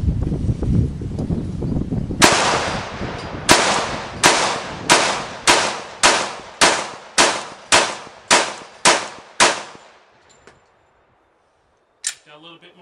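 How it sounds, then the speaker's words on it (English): A Glock 21 pistol fires a full magazine of .45 full metal jacket rounds at a body armor target: about a dozen sharp, loud shots in an even cadence, each ringing out, then a pause and one clank near the end. "This is a Glock 21. I'm just going to empty this whole mag of 45."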